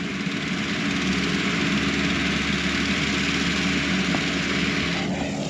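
A homemade, unfinished mower runs steadily and loudly throughout during a fall harvest in southern Iowa, a continuous engine drone with a faint change near the end and no talking.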